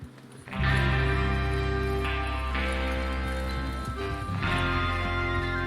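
Horses trot in Red Dead Redemption 2, their clip-clop hoofbeats running under loud, sustained orchestral game music that swells in after a brief quiet start.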